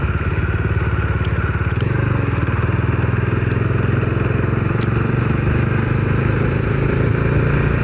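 A Dominar 400 cc motorcycle cruises through a night ride, its engine a steady, close drone under constant wind roar, with a few faint ticks and clatters on top.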